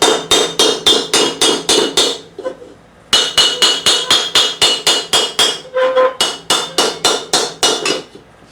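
Steady, evenly spaced hammer blows ring out on steel while a sallet helmet is being raised, loud and close. Runs of about six to eight strikes are split by short pauses, with no talk.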